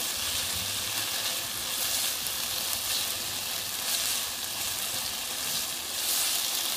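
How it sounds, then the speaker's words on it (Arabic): Meat sauce for a béchamel pasta filling sizzles in a pan as it is stirred, a close, steady frying hiss that holds at an even level throughout with no talking. "استمر بالتقليب"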